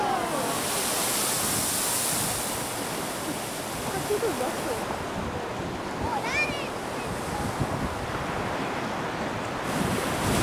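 Ocean waves surge through a narrow rocky gully into the Kiama Blowhole in Australia, a broad steady roar of surf with gusting wind buffeting the microphone and faint distant voices.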